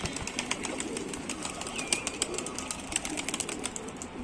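Racing pigeons flap and flutter overhead in a loft flock, a dense, fluttering wingbeat texture with scattered sharp bird calls, moderately loud and fairly close, with no talking.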